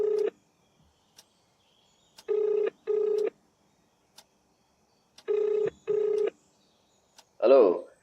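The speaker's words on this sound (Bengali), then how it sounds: "তানিয়া ছন্দার ফোনটা কেটে বিশ্বরূপকে ফোন করে।" A telephone is dialed for a call: five short, clear electronic keypad tones in uneven pairs, separated by silence, followed by a brief voice-like sound at the end.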